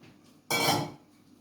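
A single metallic clank and scrape of a cooking pot being picked up, close and brief, then quiet.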